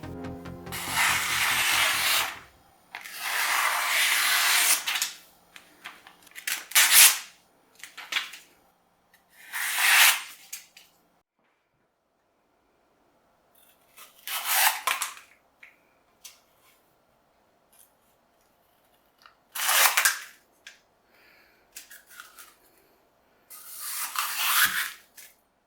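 A 400-layer Damascus gyuto kitchen knife slices through paper in a string of crisp, rasping strokes, about nine separate swishes spaced by short silences, close and fairly loud with no talking.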